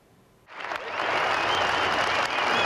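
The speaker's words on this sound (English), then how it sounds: "A roaring crowd cheering for Brookfield's Edward Miklavcic as he entered American Family Field." A stadium crowd bursts into roaring cheers and applause for a 105-year-old WWII veteran entering American Family Field, swelling suddenly from quiet to a loud, sustained wall of clapping and shouts.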